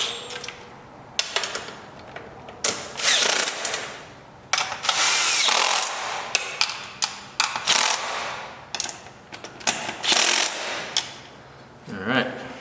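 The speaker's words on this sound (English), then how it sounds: "Got our 10mm wrench and the electric screwdriver. We're going to snug these guys up." An electric screwdriver and a 10mm wrench tighten locking nuts during a fender eliminator install on a Yamaha R3 motorcycle, with repeated loud close bursts of whirring driver noise broken by short pauses and ratchety clicks.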